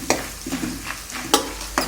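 Roasted chana dal and peanuts tossed in a hot pan for masala borugulu, with a soft oil sizzle under several sharp scraping stirs of a spatula at irregular intervals.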